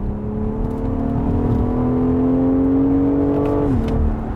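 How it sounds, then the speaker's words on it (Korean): An SUV in Sport Plus mode accelerates with a steady rising engine drone and growl held at high revs, then drops sharply near the end as the pitch falls, heard from inside without talk. "으르렁 거리는 소리도 더 커졌고"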